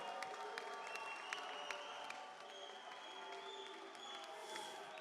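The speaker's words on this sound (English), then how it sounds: "a round of applause for the brave, gallant and talented Robert Caswell" A boxing crowd at a Southern Area Super Featherweight title fight applauds and cheers steadily after the result is announced, a dense, even wash of clapping with faint tonal sounds running underneath.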